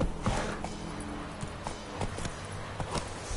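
A horse's hooves clip-clop at a steady trot in The Witcher 3: Wild Hunt, sharp regular strikes close by over a low ambient bed, with no talking.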